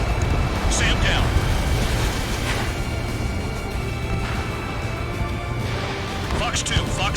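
A SAM site exploding in Ace Combat 7, a dense roaring blast rumble under jet and wind noise, sustained and loud throughout, with radio-style voices speaking briefly over it.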